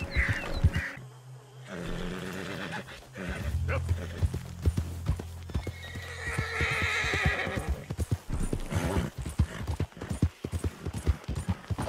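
In Red Dead Redemption 2, a black thoroughbred horse gallops with rapid hoof clip-clops and lets out a loud neigh, set against game effects and a roaring creature, with people talking over it.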